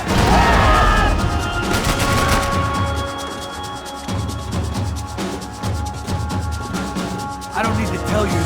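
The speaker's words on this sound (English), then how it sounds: "I can't concentrate with bullets whizzing past my head!" Dense gunfire in the Max Payne 3 video game: rapid bursts of automatic fire and scattered shots crackle loudly throughout, with voices heard amid the shooting.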